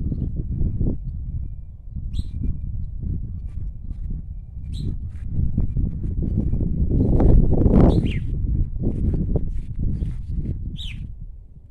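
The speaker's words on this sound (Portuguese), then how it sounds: "A gente escuta os passarinhos." Small birds chirp intermittently in woods and garden, faint, scattered calls over low rustling and movement nearby.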